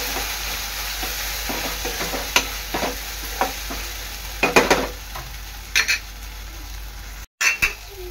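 Masala paste for a mushroom dish is stirred and fried in oil, with a low steady sizzle punctuated by repeated scraping and clinking of a spoon against the pot, close and rhythmic, and no voices.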